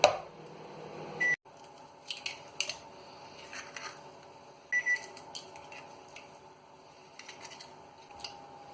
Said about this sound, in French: je mets ça au micro-ondes à faire fondre